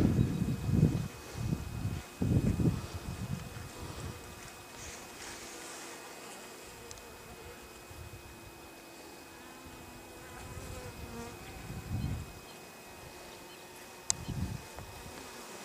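Swarm of honeybees buzzing around their hives on the first spring cleansing flight, a steady close drone with individual bees passing near and fading, some louder buzzes rising and falling.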